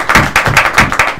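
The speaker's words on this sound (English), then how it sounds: "we should give Jason a round of applause" Clapping in honour of someone at a football press conference, six loud, close, evenly spaced claps in quick rhythm, with no talking.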